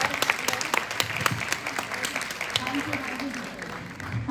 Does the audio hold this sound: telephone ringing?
no